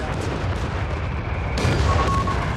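Machine gun fire from a Company of Heroes 3 multiplayer battle, a dense steady rattle of distant automatic shots under rumbling explosions, growing louder and busier midway through.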